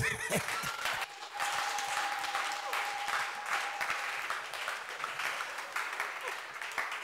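A church congregation breaking into applause, a dense wash of clapping that fills the room and holds steady for several seconds, with a few voices mixed in.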